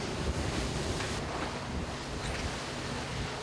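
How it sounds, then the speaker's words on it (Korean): Choppy sea water and strong wind surround a fishing boat offshore, a dense, continuous roar of wind and splashing waves close to the microphone, with no voices. "물결치고는 좀 거셉니다."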